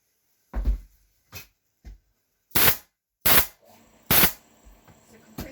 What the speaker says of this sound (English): as it's firing out these little staples, it needs to have enough pressure to be able to drive them in deep enough